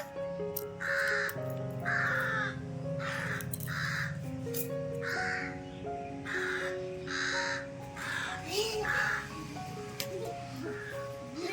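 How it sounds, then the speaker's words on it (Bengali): Several crows caw loudly and repeatedly, roughly one harsh call every second, fairly close and continuous over a steady outdoor background. "ওই দেখো কত জোরে যে কাকগুলো রাখছে"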